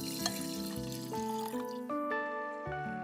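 Water pours steadily into an electric kettle being descaled with vinegar, a continuous trickle whose pitch rises step by step as the kettle fills, close and moderately loud.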